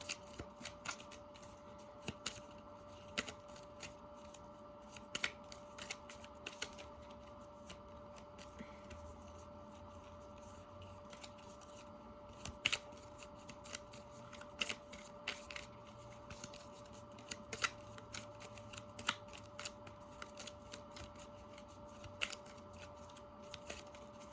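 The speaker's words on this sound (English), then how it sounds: "I shuffle like a million times. I love shuffling" Tarot cards being shuffled repeatedly, with crisp riffling snaps and taps at an uneven rhythm, close and quiet over a low hum.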